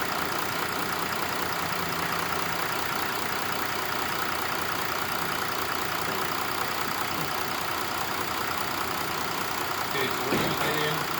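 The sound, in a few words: 2013 Mercedes-Benz 3-liter diesel engine idling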